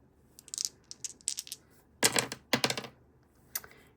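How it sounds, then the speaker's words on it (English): Three dice re-rolled during a TBR Bluff reading-game round give short clusters of sharp, close clicks and clatters in several quick bursts, with quiet gaps between them. "I think I'm just gonna re-roll these 3 dice."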